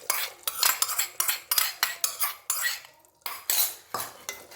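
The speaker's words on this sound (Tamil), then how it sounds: "போட்டு நல்லா ஒரு கிண்டிடணும்" Pongal with roasted cashews and raisins stirred briskly with a metal spoon, a rapid series of loud clinks and scrapes against the vessel in an uneven rhythm, with a brief pause near the end and no voices.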